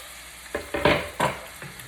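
Red onions dropped into a hot pot, several close sizzling bursts as pieces hit the hot surface, then a softer hiss.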